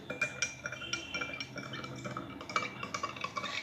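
A metal spoon stirs salt into water in a glass, giving quiet, irregular clinks and scraping taps against the glass, close by and without talk.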